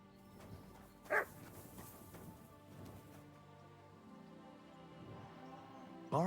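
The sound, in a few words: dog Mutt barking in video game Kingdom Come: Deliverance II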